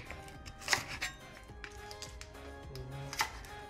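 Garlic being chopped on a board in a cooking lesson in Luang Prabang, Laos, with a few sharp knife knocks and light taps over a low background hum.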